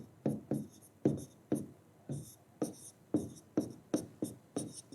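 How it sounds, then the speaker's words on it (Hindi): A teacher in a class 12 physics lesson writes a definition on a board, with about a dozen short, scratchy strokes in an uneven rhythm, close and clear with no talking. "पहले मैं आपके सामने डेफिनेशन लिखता हूं।"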